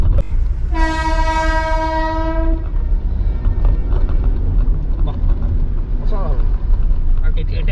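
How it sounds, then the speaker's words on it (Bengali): A freight train runs alongside on the Farakka route, with a loud horn blast and continuous rumbling wheel noise heard up close from a moving road vehicle, and people talking over it. "মালগাড়ি আর আমরা একসঙ্গে প্রায় যাচ্ছি।"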